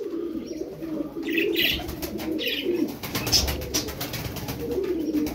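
Tumbler pigeons coo in low, throaty, rolling calls near and fairly loud, repeating throughout over faint background noise and rustling, with no voices.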